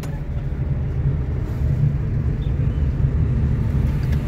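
Car engine during driving test practice, a steady low rumble from inside the cabin that holds fairly constant, with faint road noise and no clear rise in revs.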